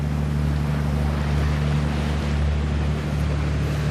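A 34-foot CHB trawler motors slowly along the British Columbia coast off Lund. Its diesel gives a steady low drone under wind and water rush, and it stays constant throughout.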